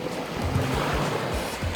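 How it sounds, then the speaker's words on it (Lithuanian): Sea surf washes onto the shore beside a campsite on Hiiumaa island, a loud, continuous roar with wind buffeting the microphone and no talk. "Graži vieta, jūros ošimas."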